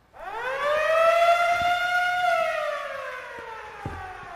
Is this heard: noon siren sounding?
yes